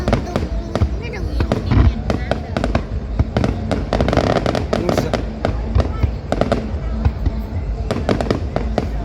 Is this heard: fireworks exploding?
yes